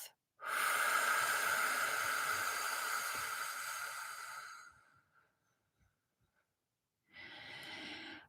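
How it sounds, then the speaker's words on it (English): Slow, deep breaths close to the microphone: a long, airy inhale through the nose lasting several seconds, a brief quiet pause, then the start of a strong breath out through the mouth, with no talking. "Breathing in through the nose, breathing out through the mouth."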